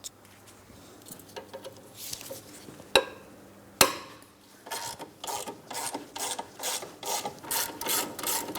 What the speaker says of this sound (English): It's time to remove our 2 caliper bracket mounting bolts next. For each of these, we're using a 17mm.